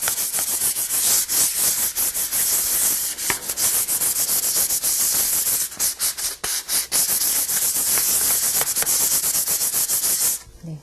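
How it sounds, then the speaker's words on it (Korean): Sandpaper rubbing back and forth over a gesso-primed wooden surface for folk-art painting, a steady close scratchy rasp in repeated strokes that continues almost without pause and stops near the end. "그 전에 사포를 먼저 한번 해주시고요"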